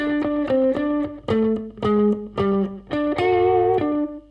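A distorted electric guitar plays a short riff of punchy, rhythmic note groups, ending on a held chord.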